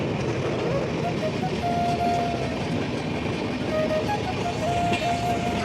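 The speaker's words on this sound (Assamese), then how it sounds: "আৰু ইয়াত চাওক মেট্ৰ' ৰেল" A Kolkata metro train passing on an elevated line shared with rail and local trains, a loud continuous rumble with rolling wheel noise and faint tonal squeals, steady from start to end.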